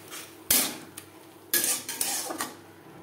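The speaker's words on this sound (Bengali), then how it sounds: "মিডিয়াম টু লো ফ্লেমে 3-4 মিনিট মশলা বেশ ভালো করে কষিয়ে নেব।" Spices for Bengali lau ghonto, with a little turmeric, are stir-fried in a pan over medium-low flame: two sharp clattering scrapes of a utensil against the pan over a faint background.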